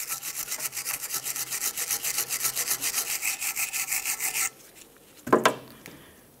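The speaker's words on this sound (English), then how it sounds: "Clean the area on the bracket where the brand new tin will sit. We'll use a wire brush for this." A wire brush scrubs the rear brake caliper bracket of a 2009-2019 Ford Flex in fast, even back-and-forth rasping strokes for about four seconds. The scrubbing stops, and a short metallic clatter follows.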